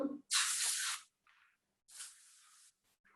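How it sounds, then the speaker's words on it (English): Butter spray oil hisses from a can in two steady bursts, each close and loud and lasting under a second, separated by a brief faint spritz and short silences. "This one is butter spray. So you just want to spray."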